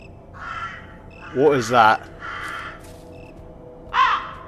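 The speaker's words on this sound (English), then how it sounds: "Shut up, birds." Crows and other birds caw in the horror adventure game The Cursed Forest: several harsh, close calls in short bursts, with a person talking briefly between them.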